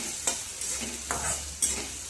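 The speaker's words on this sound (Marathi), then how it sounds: "तर यामध्ये कांदा घालून घेतला। आता कांद्याचा कच्चेपणा जाईपर्यंत हे आपल्याला थोडंसं परतून घ्यायचं आहे।" Chopped onion sautéing in a pan for a matki usal, with a steady sizzle and a few distinct scraping stirs of a spoon against the pan, close and alone without talk.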